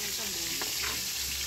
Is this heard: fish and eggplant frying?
yes